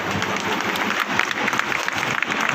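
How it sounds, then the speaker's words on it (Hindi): An audience at a community gathering of a Maidh Sunar society in Jind applauds loudly and continuously, a dense crowd of hands clapping with no pauses. "जोरदार तालियां"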